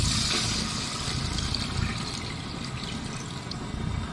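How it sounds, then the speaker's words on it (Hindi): Water is poured into a pot of fried masala, about four glasses, while cooking chicken pulao. The steady splashing fill is close and moderately loud, with no talk. "अब हम इसमें पानी ऐड करेंगे 4 गिलास"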